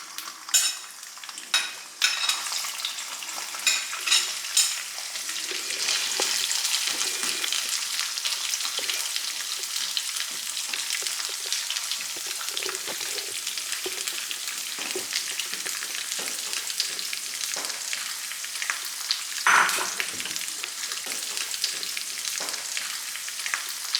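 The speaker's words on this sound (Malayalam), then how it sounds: "തേങ്ങാക്കൊത്ത് മൂത്ത് വരുന്നേ ഉള്ളൂ." Coconut pieces frying in ghee for a wheat payasam, with a steady bright sizzle and occasional stirring and spoon scrapes in the pan, close and continuous.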